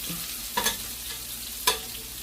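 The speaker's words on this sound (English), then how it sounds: "that grease is, the oil is popping me" Oil popping and sizzling in a frying pan while pan-searing scallops, a steady near hiss broken by two sharp crackling pops.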